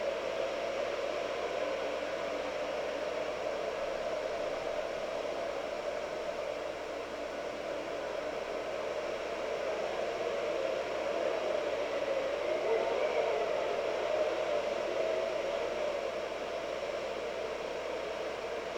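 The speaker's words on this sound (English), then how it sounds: "Like all the wind noise sounds kind of similar to what you'd hear during a tornado." Strong tornado-like wind roaring in the video game Endless Suburbia, a steady broad rushing noise that holds at an even moderate level throughout with no talk.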